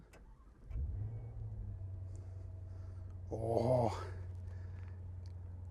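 A 2021 Maserati Levante Trofeo SUV with Ferrari-built power starts up indoors, a brief starter crank followed by a deep idle hum, then a short rising rev, close and fairly quiet, with a brief spoken exclamation.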